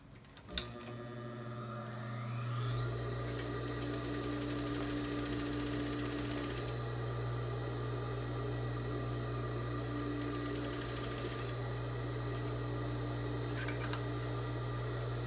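A sewing machine runs steadily for a long stretch, stitching the first seam of a bridal corset, with a close, continuous mechanical hum and whir after a short start-up.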